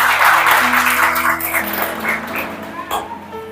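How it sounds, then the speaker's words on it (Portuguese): Church congregation applauding at a feast-day Mass for Saint Francis, loud clapping that fades over a few seconds while music plays underneath. "Podemos aplaudir a palavra de Deus."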